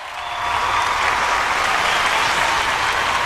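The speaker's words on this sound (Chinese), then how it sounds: "我们再次把掌声送给我们中国跳水队" A TV studio audience claps for the Chinese diving team. The applause swells in the first half-second, then holds as a dense, steady wash of clapping with no voices.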